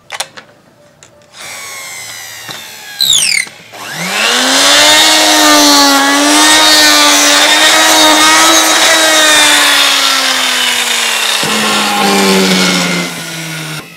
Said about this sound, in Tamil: இதை நம்ம ஒரு மெஷின் வச்சு சுத்தம் பண்ணணும்.